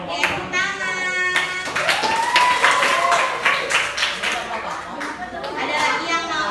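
Audience hand clapping at a school health outreach session, uneven and moderately loud, mixed with lively voices and chatter throughout.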